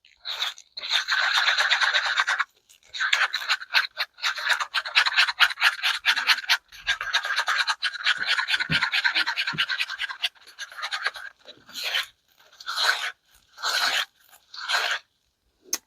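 Stick stirring two-part resin in a cup for a resin bloom, giving a steady run of close scraping and crunchy clicking strokes that break into short separate swirls toward the end; no talking.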